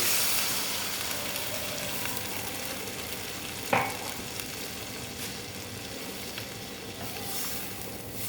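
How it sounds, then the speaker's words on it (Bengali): Matar paneer curry sizzles loudly in a pan as water is added, giving a steady, dense hiss with a brief sharper splash partway through. "এখানে জল দিয়ে দিচ্ছি দেখো জল দিয়ে দিচ্ছি"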